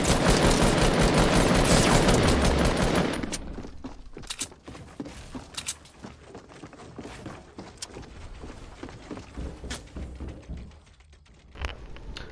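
A dense burst of rapid gunfire fills the first three seconds of a Fortnite fight, then gives way to scattered single shots, footsteps and clicks at lower level.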